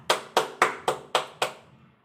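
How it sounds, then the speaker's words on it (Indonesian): Schoolchildren in an Indonesian classroom clap together: six sharp, evenly spaced claps in a quick, steady unison rhythm, close and clear, then silence. "Tepuk tangan anak-anak."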